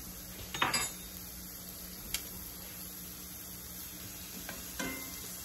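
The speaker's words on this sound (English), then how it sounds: "We're gonna let this cook until it's nice and brown on both sides." Seasoned chicken sears in a pan with a quiet, steady sizzle and a few sharp clinks and scrapes of utensils against the pan, with no talking.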